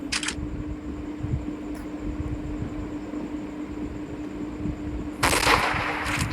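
A sniper rifle fires in the hunting game Wild Hunt as a sudden loud blast with a bright, crackling report. It breaks out of a steady low ambient hum and trails off into a noisy decay, with a brief click heard earlier.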